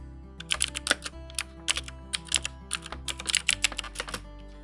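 Commands are typed on a computer keyboard for an Ubuntu Linux terminal, close rapid clusters of key clicks in uneven bursts over a faint low hum, with no voice.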